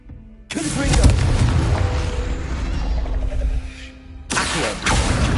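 A Confringo fire spell blasts in the Hogwarts Legacy video game, with a loud booming burst followed by a sustained rumbling roar and a second heavy impact near the end.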